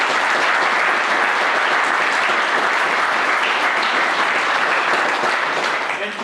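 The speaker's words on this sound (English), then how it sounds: "let's give them a big round of applause" An audience at a charity event for makers applauds loudly and continuously, with dense, even clapping throughout and no speech over it.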